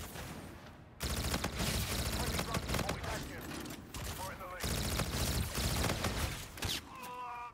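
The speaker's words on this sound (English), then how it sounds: "Oh no, I got sniped." Gunfire in Call of Duty Infinite Warfare, a PS4 team deathmatch on Dominion. Dense, loud bursts of shots run almost continuously after a quiet first second, with brief pauses, and a voice talks over the fighting.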